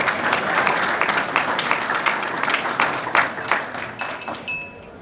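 Steady applause from an audience at a Gibraltar reception during the Conservative Party Conference, a dense wash of many clapping hands with individual claps standing out, fading slightly toward the end.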